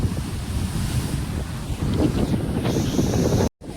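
Sea waves wash onto the shore at Chiplun, a steady broadband rush with strong wind noise on the microphone, continuous and loud before a brief cut near the end.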